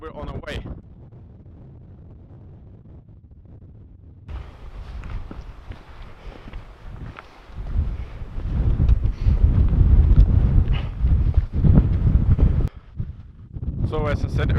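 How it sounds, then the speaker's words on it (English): Gusty wind on a hike up Kebnekaise, Sweden's highest mountain, buffeting the microphone, building from a low rumble into strong, uneven roaring gusts that rise and fall. "So as I said earlier, it's quite windy."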